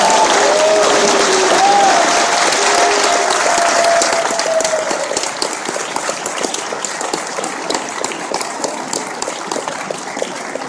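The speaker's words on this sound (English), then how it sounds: "Let's give a round of applause to" An audience at a DayZ Q&A panel at PAX East 2013 claps loudly and steadily, the dense applause thinning gradually toward scattered claps, with a voice briefly heard near the start.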